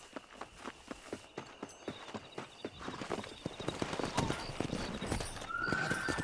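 Horse hoofbeats in the Red Dead Redemption video game, a brisk, regular clip-clop building to a faster gallop with a whinny, loud and close, mixed with game sound and voices.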